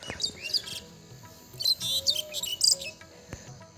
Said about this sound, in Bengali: পাখির কিচিরমিচির আওয়াজও শোনা যাচ্ছে